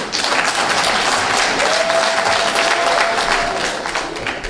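Dense, steady applause from a crowd at an investiture ceremony for the president of the Union of Ivorians in New York, loud and continuous with murmuring voices and a brief whistle-like tone in the middle.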